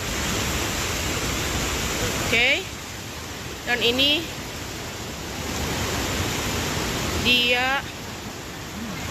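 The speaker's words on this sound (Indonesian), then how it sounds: "ini airnya dari sungai masuk ke persawahan warga. Ini arusnya cukup deras" Strong river current after the Cianjur earthquake pours into village rice fields, a steady broadband rush of flowing water heard up close throughout, with someone speaking briefly over it a few times.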